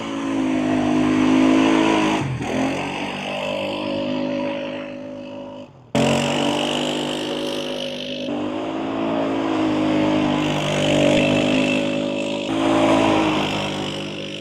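Hemi-powered off-road vehicle at a lake property, engine revving hard and shifting through rising pitch sweeps, loud and near, with a sharp cut midway before climbing again.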